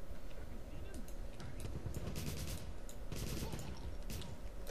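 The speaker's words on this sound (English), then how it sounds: "What the hell are you shooting?" Rapid video game gunfire from Wolfenstein crackles in dense bursts over a constant background of game sound, with speech mixed in throughout.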